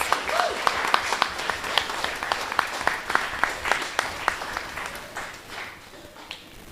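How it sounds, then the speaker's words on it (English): At a primary schools' Kweyol spelling bee competition, the crowd gives a moderate round of applause with distinct individual claps that gradually thins and fades toward the end. "give her a round of applause for all her efforts."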